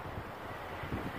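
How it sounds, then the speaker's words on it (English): Strong wind buffeting the microphone outdoors during metal detecting in Mississippi, a continuous rough roar with brief gusty surges, with no voices. "That wind is strong today."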